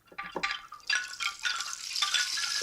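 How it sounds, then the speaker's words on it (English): Rain stick texture made on a Steinberg Backbone drum re-synthesizer, a quiet stream of fine rattling, pattering grains in uneven bursts that thicken toward the end. "rain stick, you know."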